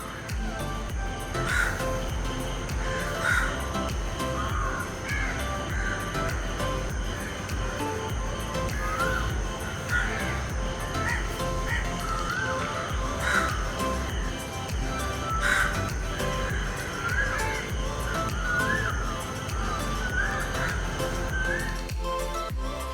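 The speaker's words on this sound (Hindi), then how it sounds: "सुबह सुबह चिड़ियों का संगीत हमारे डेली डोज में शामिल हो चुका था" Crows caw repeatedly through a morning at Kovalam Beach in Kerala, their harsh calls scattered over a steady background wash of surf and ambient noise.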